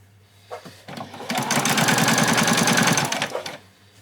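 A sewing machine back stitches through apron fabric, its needle clattering in a fast steady burst of about two seconds that starts, builds and stops close up, alone with no talk.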